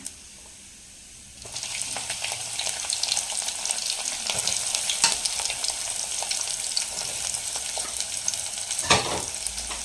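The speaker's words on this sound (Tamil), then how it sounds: "கடுகு, சோம்பு, சீரகம் எடுத்திருக்கேன். எண்ணெயில் சேர்த்துக்கலாம். பொரியட்டும்." Mustard, fennel and cumin seeds bursting in hot oil start suddenly after a quiet opening and become a dense, continuous crackle and spatter with scattered sharper pops, close and steady to the end, with no one speaking.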